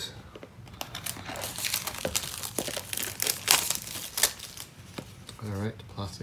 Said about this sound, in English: All right, the plastic is off.